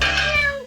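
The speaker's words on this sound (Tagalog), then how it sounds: "Laking pusa naman yan." A large cat gives a single loud, close meow lasting under a second, its harmonic cry fading out at the end.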